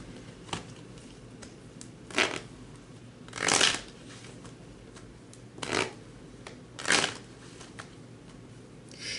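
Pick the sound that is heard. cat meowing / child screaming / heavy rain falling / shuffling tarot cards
shuffling tarot cards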